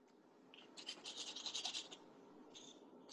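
A knife or utensil scraping the cream filling off an Oreo cookie, producing a quiet, close rasping scrape that swells over about a second, then a couple of brief softer scratches.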